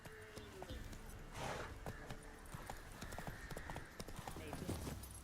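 A horse gallops in The Witcher 3, its rapid clip-clop hoofbeats steady and continuous throughout, with game ambience and a faint whinny-like texture underneath.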